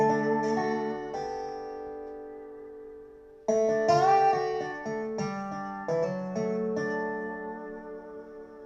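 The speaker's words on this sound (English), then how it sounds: "it gives it that really distinctive blues and country sound like this" A resonator guitar played with a metal slide tube in a blues and country style rings out in plucked phrases with sliding notes, moderately quiet and sustained, with no voices.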